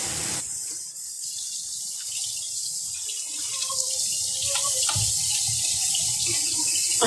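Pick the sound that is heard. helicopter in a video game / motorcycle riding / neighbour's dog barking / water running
water running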